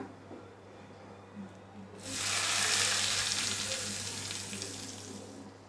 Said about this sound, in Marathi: चला आता हा तडका आहे ना तर चटणीमध्ये घालूया